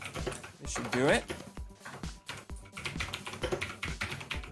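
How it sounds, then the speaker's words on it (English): Fast clacking keystrokes from a mechanical keyboard with green switches, loud and close, mixed with people talking over game sounds. "Man, you are typing really loud."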